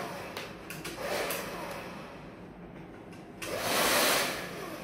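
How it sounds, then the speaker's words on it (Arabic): A Braun 3000-watt hair dryer runs with a steady, close, loud airy whoosh that swells and dips as it is handled, with a few faint clicks and no talk. "تعالوا ما نشغل الاستشوار ونشوف طريقة تشغيله."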